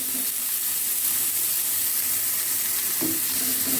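Chopped onions frying in a pan for a vegetable cheese wrap, a steady broad sizzle and hiss throughout with a brief scrape of stirring near the end.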